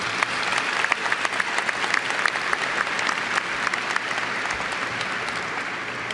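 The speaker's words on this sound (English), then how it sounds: "I wonder if you guys would give your parents and friends and mentors one more round of applause" Graduation crowd at a university commencement applauding parents, friends and mentors: dense, sustained clapping from a large audience, even and loud throughout the whole stretch, with no voices over it.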